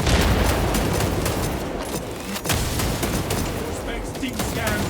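In a Space Marine 2 PvP match, a shock grenade goes off amid a dense, loud barrage of booms and rapid gunfire that continues without a break.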